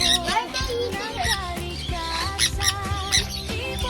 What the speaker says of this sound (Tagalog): What's that in my hair? That's a bird.